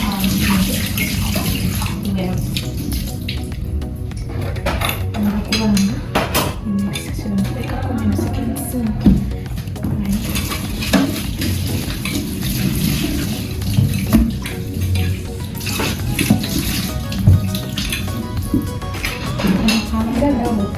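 A tap runs continuously into a sink while utensils are washed by hand, with soft clinks and splashes of dishes and glassware scattered through the steady water flow. Faint speech is heard at times.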